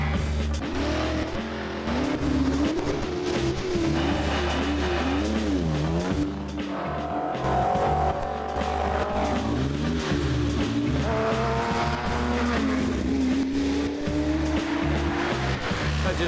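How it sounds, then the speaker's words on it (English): A race car climbs a hill course, its engine holding a loud continuous roar that rises and falls in pitch through gear changes and throttle shifts, close and sustained with no talking. "The car even sounds the same as it did."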